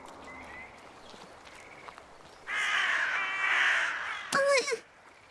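Crows caw in a cartoon scene beside a lake: a rush of wingbeats and noise builds midway, then a short, loud burst of harsh cawing near the end, with no one speaking.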